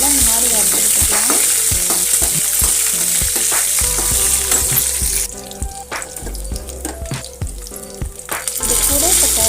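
Chopped green chilies fry in hot oil for lemon rice, a loud crackling sizzle broken by repeated scraping stirs, easing briefly in the middle before swelling again, with no voices.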